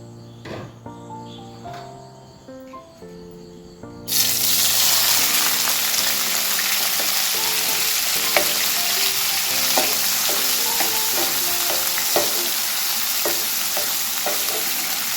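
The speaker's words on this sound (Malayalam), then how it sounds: "ആദ്യം നമുക്ക് പനീർ ചെറുതായിട്ടൊന്ന് ഫ്രൈ ചെയ്തെടുക്കാം." Paneer pieces dropped into hot sunflower oil in a pan, soft clinks and quiet handling at first, then a sudden loud, steady sizzle that continues to the end with occasional pops, close by.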